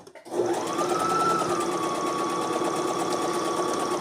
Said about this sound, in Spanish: voy a coser desde abajo, remato y voy acomodando, despacito voy cosiendo